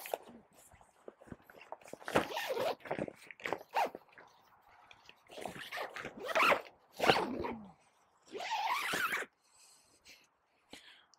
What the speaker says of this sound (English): zip it to the right.